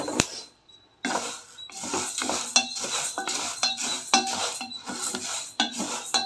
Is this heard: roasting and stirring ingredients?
yes